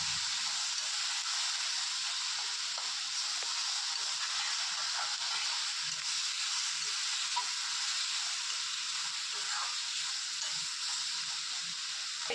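Vegetables sautéing in a pan with a little salt for a spicy idli-dosa chutney, a steady soft sizzle and hiss running evenly throughout, fairly quiet and with no talking.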